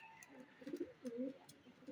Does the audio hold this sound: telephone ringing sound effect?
no